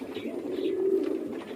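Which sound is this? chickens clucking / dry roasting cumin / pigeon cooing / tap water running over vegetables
pigeon cooing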